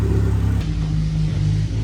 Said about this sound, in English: that car is so loud, bro